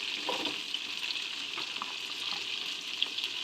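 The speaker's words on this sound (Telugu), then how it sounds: "ముందుగా పచ్చిమిరకాయలు అలానే కట్ చేసుకున్న ఉల్లిపాయలు వేసుకొని వీటిని దూరగా అయితే ఫ్రై చేసుకుంటా" Green chillies and chopped onions frying in a pan give a steady, close sizzle with faint stirring scrapes throughout, no voices.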